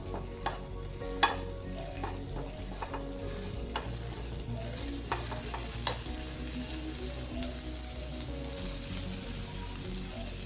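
A spiced chili paste sizzles in a pan before onion goes in, the first step of a radish paratha filling. A continuous close frying hiss runs under scattered sharp spatula clicks and scrapes, with a low hum beneath.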